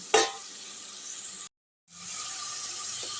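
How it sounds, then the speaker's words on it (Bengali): A steady hissing sizzle of tomato with salt and turmeric sautéing in a pan, briefly cut to silence midway before the sizzle resumes. "আমি একটু টমেটোটা গলে যাওয়ার জন্য আরেকটু কষে নিচ্ছি।"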